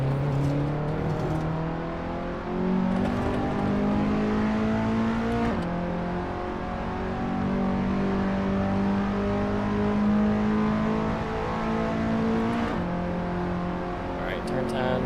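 A race car engine lapping a track in a video game, droning loud and continuous as revs climb and drop through gear changes, with a voice talking over it.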